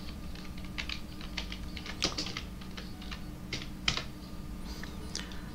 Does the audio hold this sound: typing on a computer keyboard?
yes